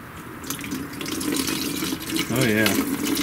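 Oil and water drain from a Caterpillar D311 pony engine housing, pouring and splashing steadily with a running, tap-like hiss, and a brief voice murmurs partway through.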